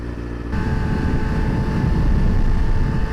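A motorcycle engine drones as the bike is ridden, a close, low rumbling hum that jumps louder after half a second and stays steady, with no speech.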